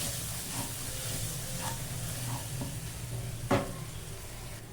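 Spice paste sizzles steadily as it is stirred in a hot pan for chicken curry, a continuous soft frying hiss with a few faint scrapes and one sharper knock of the utensil.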